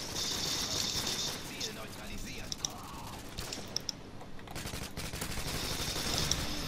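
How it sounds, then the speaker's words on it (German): Gunfire from the Call of Duty video game: dense bursts of automatic shots rattle throughout at moderate loudness, with scattered sharper single cracks mixed in, and a voice speaks over the game sounds. "Das sind meine Schüsse, die an ihm vorbeigeflogen sind."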